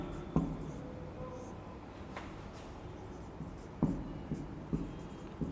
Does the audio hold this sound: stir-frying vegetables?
no